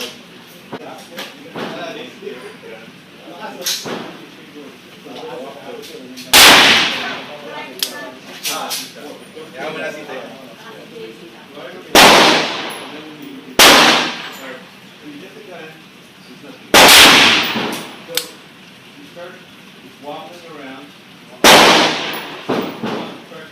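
A Smith and Wesson Model 29 .44 Magnum revolver with an 8 3/8 inch barrel fires about six loud, sharp shots at irregular intervals, over steady talking throughout.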